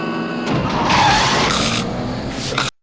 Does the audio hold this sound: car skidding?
yes